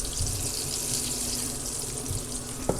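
Water poured into a bowl of flour and cornstarch batter for katsu curry: a close, steady splashing trickle lasting a few seconds, ending with a small clink.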